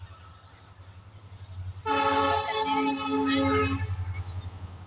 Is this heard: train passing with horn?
yes